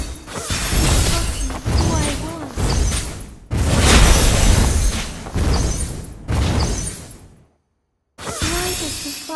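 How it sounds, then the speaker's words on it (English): Turret destruction in the mobile game Mobile Legends: Bang Bang, a run of loud crashing, shattering bursts with booming low end and whooshes, broken by a short silent gap before another burst. "Our turret has been destroyed."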